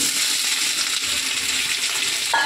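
Soybean chunks frying in a pan, a dense, even hiss of sizzling oil held at steady loudness, close and continuous with no voices.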